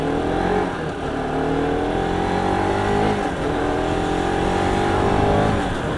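A loud modified Bajaj NS200 motorcycle fitted with an SC Project exhaust, ridden at night. The engine drones continuously and close by, climbing and dropping in pitch as it revs and shifts gears.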